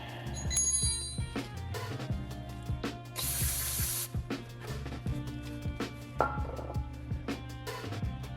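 A Brembo brake caliper gets a sharp, loud burst of spray cleaner lasting about a second, set among clicks, ticks and a steady low hum.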